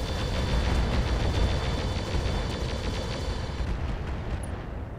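Sustained heavy weapons fire in the BattleTech mod Roguetech: a dense, continuous rumbling barrage of booming shots, loud and steady for the whole stretch before easing slightly at the end.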